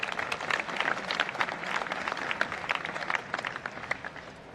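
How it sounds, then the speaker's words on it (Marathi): Applause from a seated audience for an honoree at a Nasha Mukt Bharat Abhiyan event. The clapping is steady and moderately distant, holds for several seconds and then thins out. "जोरदार अशा टाळ्या वाजवायचे"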